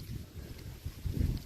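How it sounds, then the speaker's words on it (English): Outdoor wind gusting at a coastal churchyard cove, low rumbling buffets against the microphone that swell and surge, strongest near the end, with no voices. "Big gust of wind there moved that."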